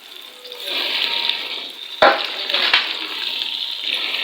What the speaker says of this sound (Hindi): हरी मिर्च और टमाटर जो है इसको अच्छे से करेंगे हम फ्राई